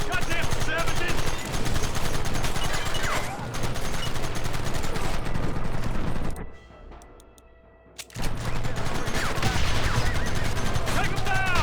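Gunfire in a Red Dead Redemption shootout against enemies hiding behind a rock: dense, overlapping rifle and gun bursts fill the scene, pausing for about two seconds before the volleys resume, mixed with shouting voices.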